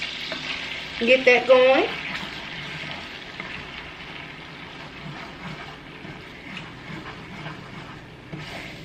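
Minced garlic sizzles in melted butter in a skillet, a steady frying crackle running throughout, with a brief louder burst near the start and a few words spoken softly over it.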